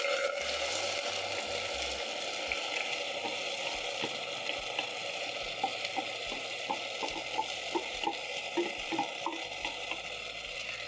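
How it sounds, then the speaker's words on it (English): Washed rice toasts and sizzles in a pan with spices while a spoon stirs it, making a steady close frying hiss with soft rhythmic scraping clicks. "Then you're going to toast the rice for around a minute"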